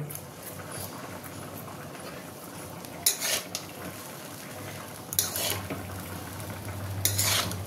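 Schezwan fried rice being stirred with salt in a home kitchen pan, a steady low scraping drone with three brief sharp clinks of a utensil against the pan near the third, fifth and seventh seconds.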